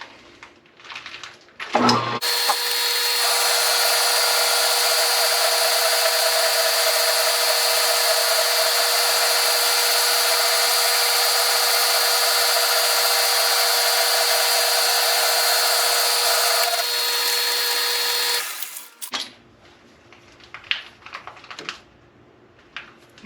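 Steady, loud metal-cutting whine from a machine taking a 1/8 inch cut in metal, running unbroken for about seventeen seconds with a high tonal ring, then stopping abruptly into quiet workshop clatter.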